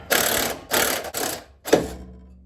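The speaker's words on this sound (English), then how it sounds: "Wrench, ratchet." Ratchet wrench clicking while loosening a 17 mm suspension bolt on a Mazda Miata, four quick close bursts of rapid pawl clicks with short pauses, loud and without talk.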